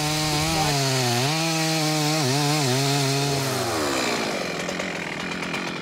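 A chainsaw felling a tree in a forest screams loud and close, its pitch rising and dipping as the chain bites into the wood, then dropping into a rougher grinding tone near the end.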